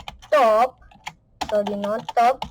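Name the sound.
typing on computer keyboard, writing CSS code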